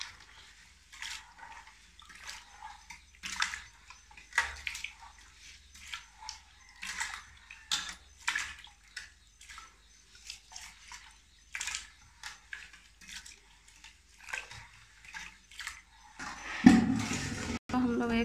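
Rice being washed in water in a pot for Jharkhand dhakkan daba roti, with soft repeated swishing and faint clinks at close range, continuing in an uneven rhythm while someone talks.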